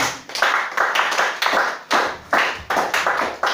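A church congregation claps in a steady rhythm, with bursts of hand claps in quick repeated groups, fairly close and loud, without clear voices over it.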